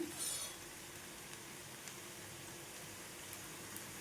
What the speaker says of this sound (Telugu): కలిపేసుకొని 2 వైపులు కూడా తిప్పుకుంటూ మంచిగా క్రిస్పీగా వచ్చేటట్టు వేయించుకోండి